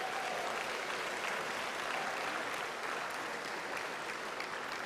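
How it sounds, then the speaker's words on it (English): A large audience at a 2023 medical school commencement ceremony gives dense, sustained applause that holds at an even level for about five seconds, with no pause in the clapping. "Give a hand clap for this wonderful day."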